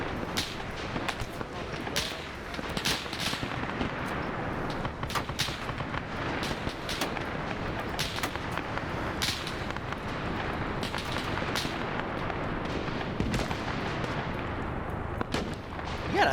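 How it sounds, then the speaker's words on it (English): Heavy gunfire and artillery in a military video game, a dense continuous barrage of sharp shots and booming blasts with rapid repeated cracks throughout, voices talking underneath. "Under heavy fire."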